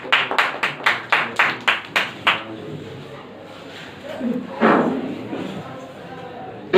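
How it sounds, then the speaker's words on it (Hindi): Classroom students clapping together during a maths lesson, about ten sharp rhythmic claps in quick succession, followed by quieter murmurs and a teacher's voice speaking. "बहुत अच्छा, ताली बजाइए इनके लिए"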